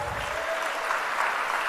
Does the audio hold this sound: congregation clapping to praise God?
yes